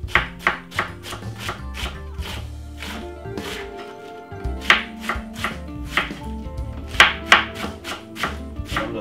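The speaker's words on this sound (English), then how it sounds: "Cut it up a little bit small, fine it. Just chop it up a little bit." A knife chops salad vegetables such as iceberg lettuce for a Caribbean-style salad, striking the cutting board in quick, crisp bursts. The irregular rhythm has a short pause midway, and the chopping is heard alone and close.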